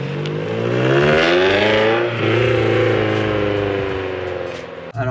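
A Toyota MR2 sports car from the 1990s revving while driving, its engine note loud and close, climbing and sagging in pitch over several seconds before cutting off abruptly near the end.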